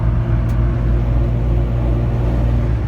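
A car fitted with upgraded drive shafts and a slip yoke eliminator cruises down the road at about 45 mph, giving a steady, loud low rumble and road drone throughout with no breaks.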